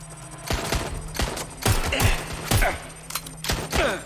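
Gunfire in the video game Watch Dogs Legion: a string of sharp, loud shots at irregular intervals, some coming in quick pairs, over a low steady backdrop.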